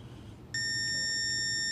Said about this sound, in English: I hear a beep letting me know that it's registered.